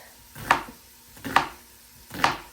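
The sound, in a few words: chopping an onion with a knife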